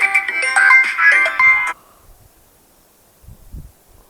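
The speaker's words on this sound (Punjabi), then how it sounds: "ਹੁਣ ਭੈਣ ਦਾ ਫੋਨ ਆਈ ਜਾਂਦਾ" An electronic phone ringtone plays a bright repeating melody for under two seconds, then cuts off, leaving near silence with a few faint low thumps.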